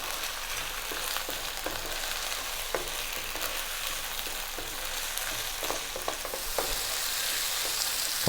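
Mushrooms and fresh chili fry in a pan for a tofu curry, crackling in a constant bright sizzle while being stirred, with soft scraping clicks scattered throughout and no one speaking.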